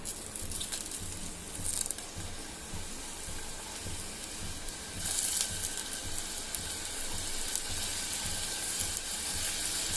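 Onions sizzling in a pan for a Goan sausage chilly fry, a soft, continuous crackling hiss with occasional brighter spatters and stirring sounds, fairly quiet and with no talking.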